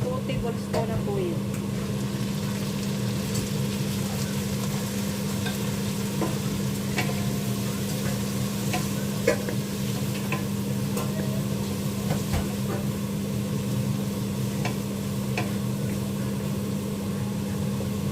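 Two tablespoons of cooking oil sizzle and crackle steadily in a pan while adobong sitaw is being made, a constant close frying hiss with a low steady hum running underneath and occasional small pops and clatters.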